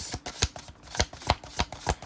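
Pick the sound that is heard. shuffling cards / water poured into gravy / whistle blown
shuffling cards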